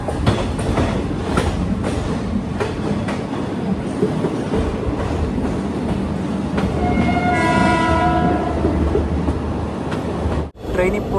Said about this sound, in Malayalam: ട്രെയിൻ ഇപ്പോൾ മണ്ഡ്യ സ്റ്റേഷനിലേക്ക് എത്തുകയാണ്.